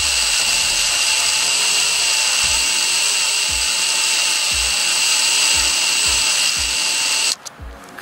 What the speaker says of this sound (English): That means that bit's biting down in there and it's getting that metal out.